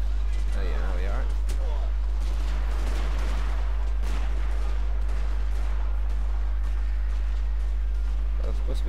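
Unit gunfire rings out in a Total War Shogun 2: Fall of the Samurai online battle, with repeated cracking volleys and a dense rumble of shots that persists throughout, voices faintly present beneath.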